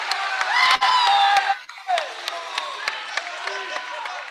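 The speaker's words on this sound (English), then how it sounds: "the crowd gets into these dismounts" A crowd at a gymnastics meet cheers, shouts and applauds a dismount, a loud dense burst that fades into scattered claps and calls around an arena.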